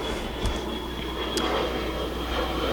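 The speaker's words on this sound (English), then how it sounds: "Oh, plane going by." An airplane passes overhead outdoors while a 2018 Camaro ZL1 sits for an oil change, a steady broad roar holding even throughout with a faint high whine, fairly loud and unbroken.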